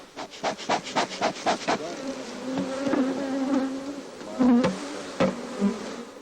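Honeybees buzzing around a backyard hive during royal jelly production, a close, steady drone broken by a series of sharp knocks and rubbing sounds as wooden frames and bars are handled.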